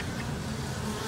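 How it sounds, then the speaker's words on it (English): Honey bees feeding on fondant make a steady, close buzzing hum that fills a brief moment. No voices are heard. "Obviously, these are very gentle bees too, and appreciative bees."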